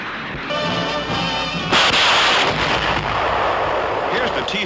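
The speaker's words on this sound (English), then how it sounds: "the rockets can be shot singly, in groups of 6, or all 60 in a continuous stream" A Sherman rocket tank firing a barrage of rockets, a continuous loud roaring stream of launches with sharp whooshing bursts, heavy and sustained from start to finish.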